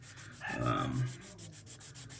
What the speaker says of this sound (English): We're gonna keep sanding a little bit